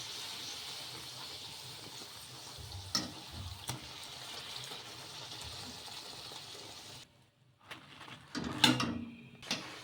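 Coconut puris frying in hot oil, a steady broadband hiss with a few sharp clicks and clatters, easing off near the end before some louder handling knocks.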